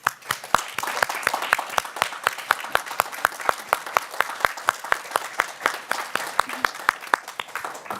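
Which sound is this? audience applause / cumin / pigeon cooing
audience applause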